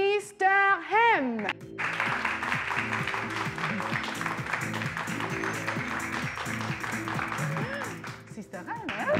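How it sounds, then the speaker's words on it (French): An audience applauds Sister Hem at a live show, a sustained burst of clapping that starts after a short spoken introduction and continues under a voice for several seconds. "faites s'il vous plaît un tonnerre d'applaudissements pour Sister Hem."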